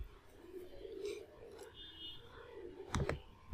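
A couple of quick, soft mouse clicks near the end on a setup wizard's finish button, close by, against a quiet room background with no speech.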